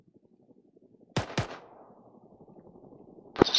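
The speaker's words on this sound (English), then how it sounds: "and then we're just gonna shoot these enemies here." Video game gunfire aimed at enemies: two sharp close shots in quick succession, then a rumbling tail and a third loud shot at the end, following a quiet stretch.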